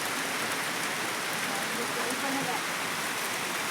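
Steady winter rain, said to carry hail, falls as a dense, even hiss of drops on surfaces, loud and close throughout.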